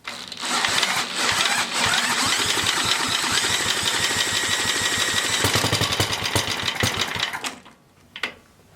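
An old hand tiller engine runs loudly at full throttle with a rapid, rattling putter for about seven seconds, then cuts out abruptly, leaving a brief clunk and near silence.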